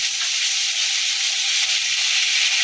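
Ginger and green chili paste hitting hot mustard oil in a pan, a loud, steady, close sizzling hiss that holds without a break.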